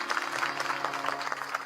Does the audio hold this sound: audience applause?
yes